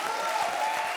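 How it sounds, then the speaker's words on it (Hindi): Brief burst of studio audience applause during a televised comedy show, a dense continuous wash of clapping with a faint tonal hum underneath. "तालियां"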